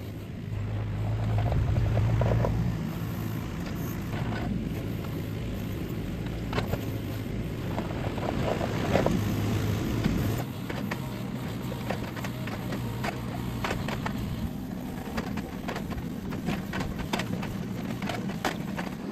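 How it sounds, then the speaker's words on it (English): Excavator working on a gravel driveway, pulling up railroad ties: a steady low diesel rumble runs throughout, with scattered clanks and scraping bursts from the bucket, fairly close and loud. "So I'm gonna grab the excavator and pluck off a couple of railroad ties"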